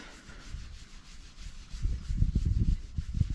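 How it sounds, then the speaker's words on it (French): Steady rubbing and scrubbing of scratch remover onto car paint, growing firmer and more rapid toward the end, close up with no talking. "Je frotte assez fort."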